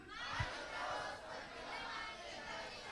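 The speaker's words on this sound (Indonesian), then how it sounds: "Luar biasa tepuk tangannya sekali lagi" A crowd at a South Sulawesi short film festival awards night roars in a steady wash of applause and cheering, with one brief low thump near the start.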